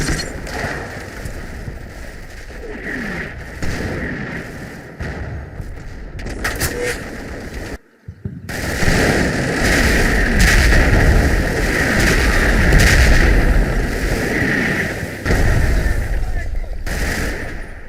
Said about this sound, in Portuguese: Nossa artilharia parece querer entrar no jogo.